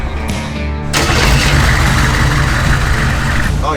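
An offroad Humvee engine cranks and catches after a short starter whir, then settles into a loud, steady idle up close, with a brief voice near the end.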